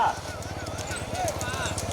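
Bulls' hooves clatter in a fast, steady rhythm during a big-bull bullock race at Vettanur, close and continuous beneath loud crowd chatter and shouting.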